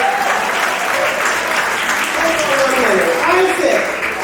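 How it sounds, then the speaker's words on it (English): Audience applause at a retirement ceremony, a steady sustained wash of clapping from a crowd with voices calling out over it. "Give Dr. Williams another round of applause."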